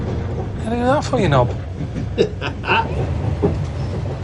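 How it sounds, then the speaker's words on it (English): A Trans-Siberian Express train rolls slowly, giving a low, steady rumble beneath close conversation that dominates throughout. "Then the train going slow as hell."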